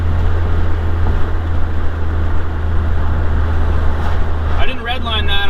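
A Mazdaspeed 3 fitted with a big BNR S5 turbo running 25 PSI drones loudly and steadily from inside the cabin under heavy load, and a voice starts talking over it near the end.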